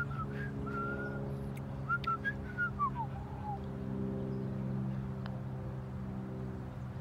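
Golf announcer whistling a theme during a birdie putt on the 17th, a soft melodic whistled tune in short phrases over a steady low engine-like hum.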